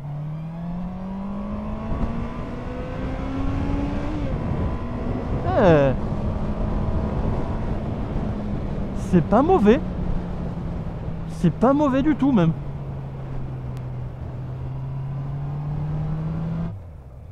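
A Honda CB650R motorcycle rides along a road, its engine a steady, moderately loud drone from the rider's position with slow pitch shifts, while someone talks over it and wind noise sits underneath.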